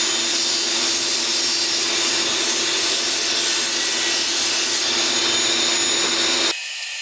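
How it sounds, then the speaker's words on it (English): A table saw runs loud and steady, ripping wooden shelves and thin strips, a continuous whining roar that holds for several seconds and then cuts off abruptly near the end. "now I'm ready to go over to the table saw and clean them up"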